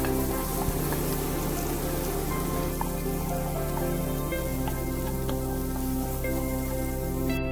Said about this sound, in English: Saute it well for few minutes.